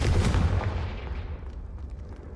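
Confringo fire spell cast in Hogwarts Legacy, a single loud, deep booming blast up close that decays into a rumbling tail with faint crackles.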